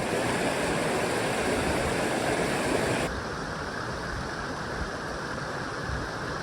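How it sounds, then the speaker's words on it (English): A waterfall on the Black River at Johnson's Shut-Ins along the Ozark Trail in Missouri rushes as a steady, dense hiss of water, louder at first and then slightly softer, with no voices. "Oh, and there's a waterfall down there."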